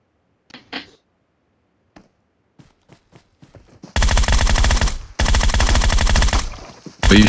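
Gunfire in PUBG Mobile, a few scattered single shots at first, then two long, loud, dense bursts of automatic fire close by, separated by a brief gap, with no talk over them.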